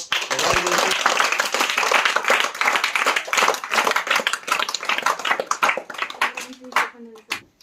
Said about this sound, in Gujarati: હવે આપણે સ્પર્ધાની શરૂઆત કરીએ ત્યારે આ સ્પર્ધકો માટે જોરદાર એકવાર તાળીઓ